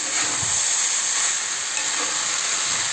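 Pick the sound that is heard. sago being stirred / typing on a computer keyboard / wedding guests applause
sago being stirred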